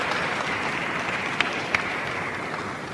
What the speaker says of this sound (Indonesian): Kita berikan tepuk tangan untuk kedua petinju partai puncak besok.